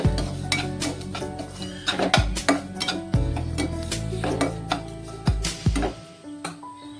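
Sugar being stirred in a pan, with a close, busy run of metallic scrapes, taps and clinks from a utensil against the pan, irregular and fairly loud throughout.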